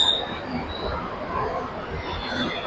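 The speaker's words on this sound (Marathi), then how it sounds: "वरतून मेट्रो वगैरे जाते" A metro train passing overhead near a home, a sustained rumbling roar with a faint high steady whine, moderately loud and continuous.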